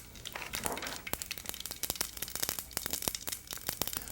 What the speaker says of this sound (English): Mustard seeds are done when they start to crackle like this.